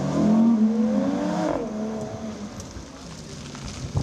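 Car engines roar and rev at a memorial gathering in Borgoricco, a loud rising growl up front that eases into a steady rumble with hiss in the background.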